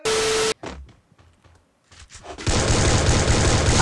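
Gunfire in the video game Free Fire, with a loud burst of shots at the start, a few scattered faint pops in between, then sustained heavy firing that fills the last second and a half.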